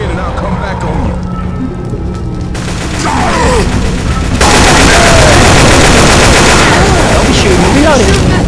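Rapid teammate gunfire in a first-person shooter game: dense, continuous automatic bursts, loud and close, filling the whole stretch and growing heavier midway, with voices mixed underneath.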